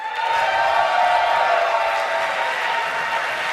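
A loud crowd cheers and claps at an offline Age of Empires 2 esports event, a dense sustained roar of voices and applause filling the room throughout.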